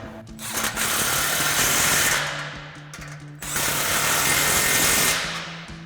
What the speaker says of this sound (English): I'm going to start up front with my 15mm of my gun, tighten these clamps up